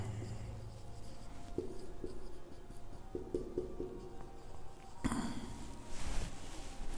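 Handwritten notes for a Class 12 English grammar lesson: a steady, faint scratching of writing under a soft room hum, with a few light taps and a busier stretch of strokes near the end.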